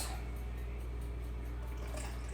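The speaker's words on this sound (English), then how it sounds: "Pouring the liquid off." Liquid is poured off canned artichoke hearts, giving a continuous close splashing trickle that runs steadily throughout with no talk.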